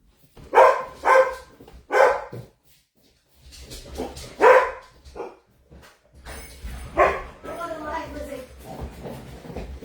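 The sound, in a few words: dogs barking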